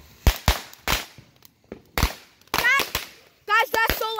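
Fireworks and firecrackers go off outdoors in a rapid string of sharp, loud bangs, some crackling bursts following one another, with excited voices talking and calling out between the blasts.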